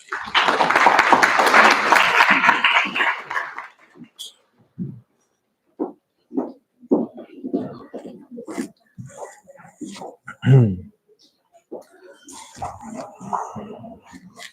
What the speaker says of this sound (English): Everyone, please give him a round of applause